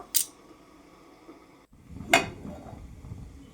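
A metal lid set onto a pot of masoor dal in a home kitchen gives two sharp, close clinks a couple of seconds apart, with quiet rustling between them.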